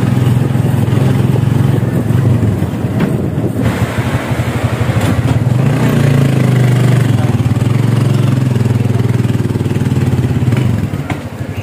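A motorcycle engine idles close by, a steady low putter running throughout without pause.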